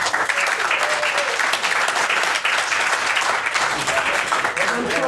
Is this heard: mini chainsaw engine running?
no